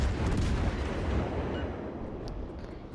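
Heavy report from 8-inch naval guns on the premium cruiser Salem in World of Warships Legends: a loud, deep boom at the start that rolls off into a long fading rumble.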